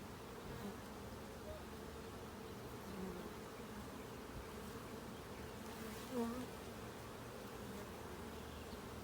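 Honey bees buzzing during a hive inspection, a soft, continuous hum that stays even and low throughout.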